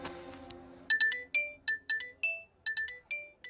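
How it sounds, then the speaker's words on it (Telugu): A phone ringtone plays a quick, bright electronic melody of short repeated beeping notes in a steady rhythm, clear and alone, following a brief low musical tone at the start. "నన్ను ఇది ఫోన్ చేసిందేంటి?"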